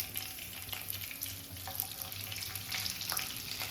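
Cauliflower florets fry in white oil mixed with ghee, giving a continuous crackling sizzle with occasional louder pops and spits, close and steady throughout.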